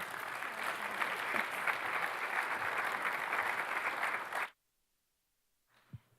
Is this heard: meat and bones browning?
no